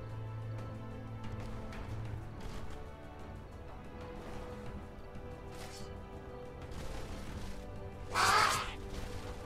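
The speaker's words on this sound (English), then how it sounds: "More bloody crows around here." Crows caw in the fantasy strategy game Age of Wonders 3, a short, loud burst of calls near the end above a steady low game soundscape.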